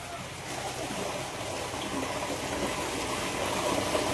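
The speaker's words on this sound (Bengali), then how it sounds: "এখন আমার এই শিঙি চেম্বারে আমি জলটা ছাড়বো" Water gushes steadily as it drains from a singhi fish tank chamber, a continuous close rushing flow that holds at an even level throughout.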